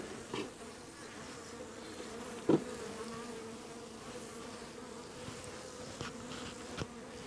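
A small honeybee colony in a hive gives a steady, faint, low buzz that hums continuously, with a few louder passing bees and light handling knocks.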